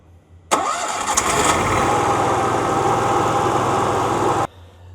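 A gas Onan RV generator with a new carburetor cranks and catches, then runs at a loud, steady, even drone for about four seconds before cutting off abruptly.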